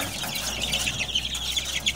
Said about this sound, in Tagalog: Halos tandang lahat na yan.